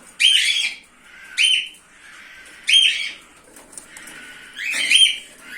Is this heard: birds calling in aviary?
yes